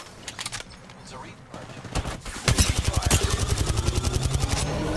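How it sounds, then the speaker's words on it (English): Rapid bursts of automatic gunfire in a video game, starting as scattered shots and building into a loud, sustained fusillade of closely spaced cracks, with a voice speaking over the start. "These are shooting at me."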